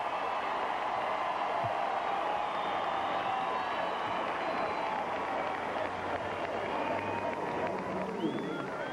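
Gymnastics arena crowd at the 1994 NCAA women's championship event finals, a steady dense roar of cheering and applause filling the hall at a constant high level without pauses.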